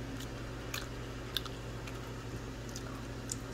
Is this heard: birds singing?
no